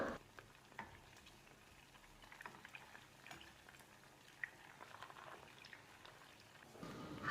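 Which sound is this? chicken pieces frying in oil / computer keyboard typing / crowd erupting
chicken pieces frying in oil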